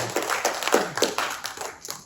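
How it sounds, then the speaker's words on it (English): A handful of people clap for a participant after a breathing exercise at a talk, giving a thin, uneven patter of claps that runs for about two seconds and fades out. "Give him a round of applause."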